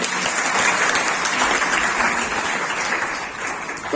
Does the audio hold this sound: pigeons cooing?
no